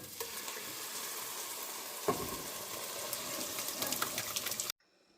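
Lentils tipped into a hot tempering of asafoetida, dried red chillies and curry leaves, setting off a crackling sizzle with a sharp burst partway through, continuing steadily before stopping abruptly.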